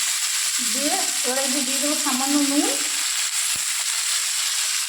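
Potatoes, onion and green chili frying in a pan, with a steady, close, broadband sizzle lasting throughout while someone speaks briefly over it.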